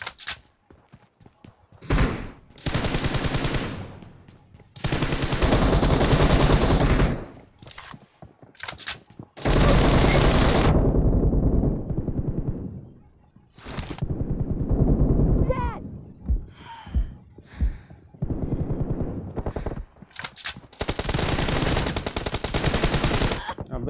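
Automatic gunfire in the mobile battle royale BGMI comes in loud, sustained bursts separated by brief gaps and sharp single shots, with voices talking in between and under the firing.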